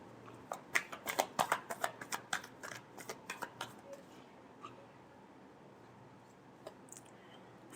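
Tarot cards being shuffled by hand, a quick series of crisp riffling taps for about three seconds, then a near-silent pause with a couple of faint clicks.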